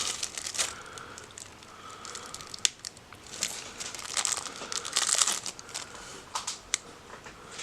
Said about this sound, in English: plastic wrap off